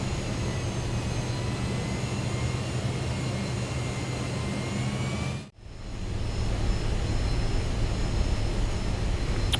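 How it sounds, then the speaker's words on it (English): A Fokker F28 jet taxiing in Microsoft Flight Simulator gives off a steady, loud jet engine whine with a low rumble that drops out briefly and then builds back to the same level. "Just remove the chocks and start taxiing out towards where we want to go."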